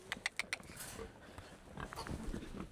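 A homestead pig named Oink Oink gives a few quick grunts near the start, then softer snuffling and rustling as it moves about, faint and close.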